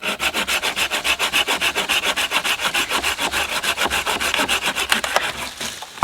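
A Laplander folding saw cuts through seasoned wood a couple of inches thick, up close and loud, in fast, even back-and-forth rasping strokes that go on steadily throughout.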